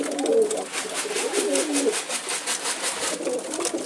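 Pigeons coo nearby in a soft repeated rolling rhythm, several low throaty calls in succession over a steady background hiss.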